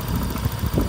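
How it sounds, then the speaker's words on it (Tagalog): A motorcycle engine idles right after a throttle body cleaning, a close, steady, slightly rough rumble with a faint mechanical rattle. "Medyo malutong yung tunog ng makina."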